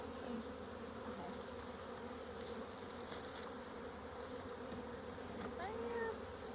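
Honeybees buzz in a dense, steady drone during a hive inspection, close and continuous from start to finish with no pauses.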